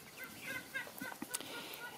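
Crossbred hens and a rooster cluck in a farmyard flock, a few short, scattered clucks and chatters rising over quiet background noise.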